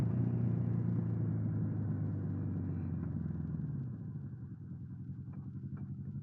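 A 1979 Honda CB750F Super Sport sits idling around 1200 rpm, a low steady four-cylinder rumble heard close up that drops slightly in level partway through, with no one talking.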